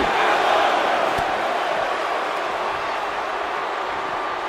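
Arena crowd noise from the WWE 2K24 wrestling game during a Gunther versus Randy Orton match, a steady broad roar of cheering that holds at even loudness throughout, with one brief sharp hit partway through.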